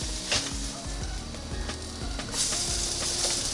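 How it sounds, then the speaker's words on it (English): Crab cakes searing on a NuWave Primo grill oven give a steady, close, dense sizzle with a few faint clicks and scrapes, and no voices. "we got some nice searing"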